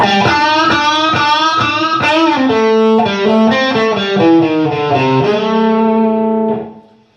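A distorted electric guitar plays a bluesy lick, with string bends and squealing pinch harmonics, sustained notes ringing before fading out.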